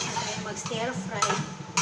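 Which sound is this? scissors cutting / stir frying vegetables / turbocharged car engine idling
stir frying vegetables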